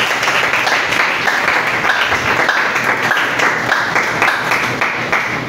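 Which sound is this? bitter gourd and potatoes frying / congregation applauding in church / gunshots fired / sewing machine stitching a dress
congregation applauding in church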